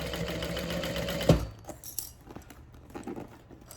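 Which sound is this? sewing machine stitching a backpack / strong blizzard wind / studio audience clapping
sewing machine stitching a backpack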